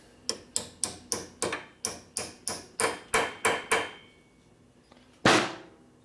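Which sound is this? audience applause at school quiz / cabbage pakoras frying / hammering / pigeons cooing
hammering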